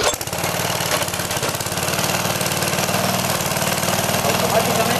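A gasoline pressure washer engine is cranked and catches, then runs with a fast, steady, loud mechanical chug close by, while someone speaks over it.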